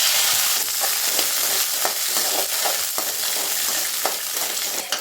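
Small onions fry in oil with a bright, continuous sizzle and crackle, flecked with small pops and stirring scrapes, with no talk.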